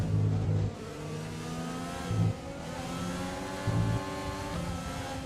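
Race car engine in a Bahrain racing game, a steady mid-pitched drone with brief louder revving surges near the start and around the middle, continuous and fairly close.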